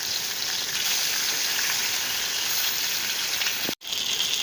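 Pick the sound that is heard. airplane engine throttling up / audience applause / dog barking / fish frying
fish frying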